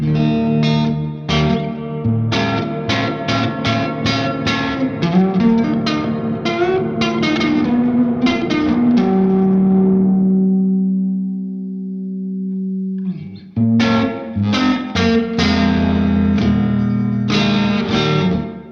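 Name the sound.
guitar through reverb pedal with overdrive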